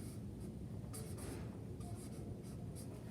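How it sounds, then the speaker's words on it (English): A red marker moves across a paper chart in a few faint, scratchy strokes, short squeaky bursts spaced over about three seconds in a quiet room. "I'm going to write right here in red."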